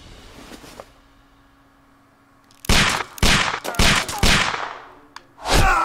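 Gunfire in the video game Sherlock Holmes The Devil's Daughter: after a quiet stretch, several loud sharp shots burst out in quick irregular groups, with a final blast near the end.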